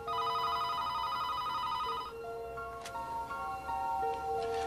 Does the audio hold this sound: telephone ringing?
yes